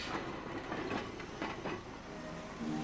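A Hong Kong Peak cable tram climbs toward its top station, its wheels and cars giving a steady rattling rumble with rhythmic clacks, moderately loud and continuous with no voices.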